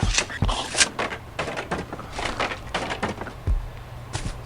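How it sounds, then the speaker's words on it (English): Doors being demolished in the prison-building video game Prison Architect: a busy run of splintering wooden cracks and knocks, several loud hits among the rest, with no talking. "We need to demolish those doors, I think."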